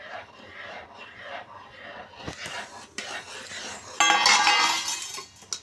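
Upma being stirred with a spoon in a pot, heard as soft scraping and mixing with occasional metallic clinks, building to a louder, denser scraping near the end.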